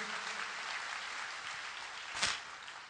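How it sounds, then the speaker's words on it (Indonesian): A church congregation claps together during a worship service, a faint, steady wash of applause with one sharper thump near the end. "Ayo tepuk tangan yang meriah bagi Kristus Yesus Tuhan"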